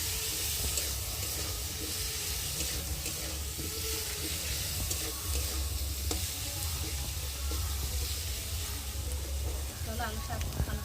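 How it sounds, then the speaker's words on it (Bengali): Potatoes cook in a pan with spices and green chilli, sizzling and hissing loudly and steadily while being stirred, with someone talking over the frying. "দিয়ে ভালো করে মশলাটা কষিয়ে নেবো আলুর সাথে।"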